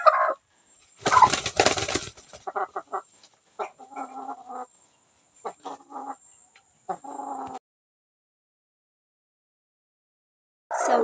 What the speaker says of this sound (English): the specific breed of chicken I want to raise organically is the black ocelot